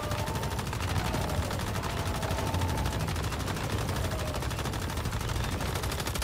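Gunfire rattles against the Forsaken Giant boss in the video game Once Human, played with a fast gunner build; rapid, continuous shots run dense and loud throughout under a busy game mix.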